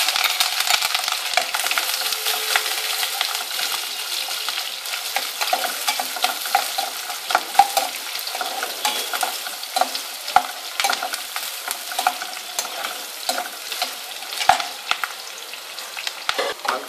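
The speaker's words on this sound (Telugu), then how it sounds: "ఉల్లిపాయ ముక్కలు, వెల్లుల్లిపాయలు, కరివేపాకు, పచ్చిమిర్చి వేసుకొని దోరగా వేసుకోవాలి." Onion pieces, garlic, curry leaves and green chillies frying in oil in a pan for a tamarind curry, a steady close sizzle with frequent spatula clicks and stirring scrapes throughout.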